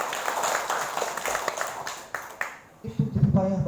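A crowd at a Golkar party gathering in a Metro neighbourhood claps for a couple of seconds in a fairly dense burst that thins out, then a voice starts speaking.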